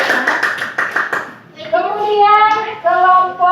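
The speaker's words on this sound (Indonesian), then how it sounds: "Tepuk tangan untuk kelompok 1." A class of students clapping for a group in a classroom, a burst of close applause lasting about a second and a half before a voice speaks over the fading claps.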